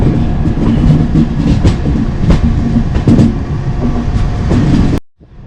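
A loud, steady rumble of an overnight passenger train in India with rhythmic clatter of wheels on track, heard from inside, cutting off abruptly at the end.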